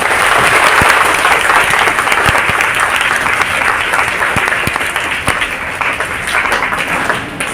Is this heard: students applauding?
yes